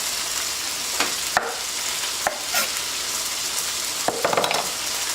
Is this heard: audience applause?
no